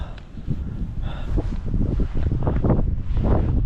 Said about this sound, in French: Il y a du vent là.